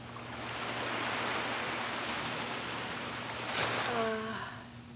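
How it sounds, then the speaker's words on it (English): Ocean waves wash in a broad, steady roar that swells and eases, with a low hum underneath and a brief whistling tone near the end. "The waves sound nice today too"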